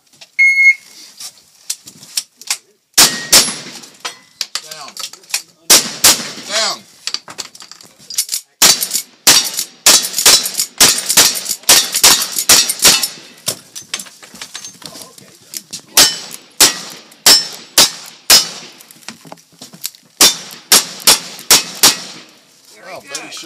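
Sharp gunshots crack at an outdoor cowboy action shooting match, loud and close in rapid strings with brief pauses, some shots falling in quick pairs and bursts.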